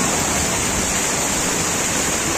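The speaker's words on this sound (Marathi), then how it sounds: "आता पाऊस आला मित्रांनो." Floodwater rushing through a street in Virar after heavy rain, a steady, dense wash of water noise that holds at an even level throughout with no breaks.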